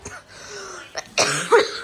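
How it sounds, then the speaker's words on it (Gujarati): A person coughs sharply twice, close and loud, the second cough harsher than the first, with a faint rasp before. "ઉધરસ થઈ ગઈ?"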